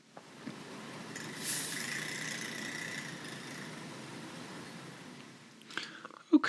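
City street ambience with diggers working, car traffic and people, a steady rumbling engine drone with hiss that builds, then a few clattering knocks near the end.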